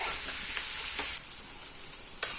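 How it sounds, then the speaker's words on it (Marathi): Green chili and ginger paste sautéing in a pan, a bright continuous sizzle up close with a few soft stirring scrapes, easing slightly after the first second. "हिरवी मिरची आणि आल्याचं एक मिनिट छान असं परतून घ्यायचं आहे"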